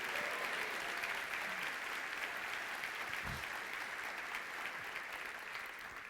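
A church congregation claps in a dense, even wash of applause that holds steady for several seconds and then tapers slightly.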